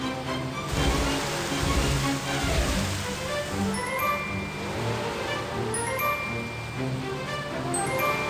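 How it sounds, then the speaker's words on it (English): Steady rushing water pours continuously as a hose fills a fire truck in a Baby Bus children's game, with game-style music tones and effects layered over it. "Let's fill the fire truck with water."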